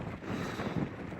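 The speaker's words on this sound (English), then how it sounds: "It is a windy booger up here." Gusty wind on a high mountain pass at 12,140 feet in Colorado, rushing steadily and buffeting the microphone with low rumbling gusts, no voices.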